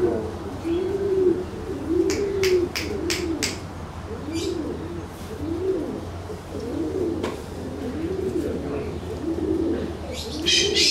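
Pigeons in small show cages coo in repeated, rolling low calls, near and steady, joined by a few sharp chirps and light clicks amid faint room noise.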